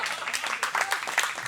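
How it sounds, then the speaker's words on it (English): Audience applause after a talk on architecture and landscaping at a home and garden show, a close, busy patter of clapping hands with overlapping bright claps throughout the short burst. "Let's give a round of applause."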